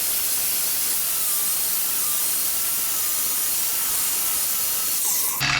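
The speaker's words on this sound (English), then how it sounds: "I'm just going to go ahead and grind off all of the excess that's left on there" Excess metal is ground off a filled plug on the firewall of a 1957 GMC truck, a loud steady hissing grinder roar that runs unbroken and stops abruptly at the end.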